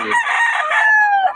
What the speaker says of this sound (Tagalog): Ang gaganda ng mga manok ni Boss Gaga, mga idol